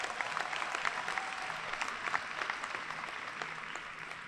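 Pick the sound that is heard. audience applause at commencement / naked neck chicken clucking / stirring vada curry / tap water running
audience applause at commencement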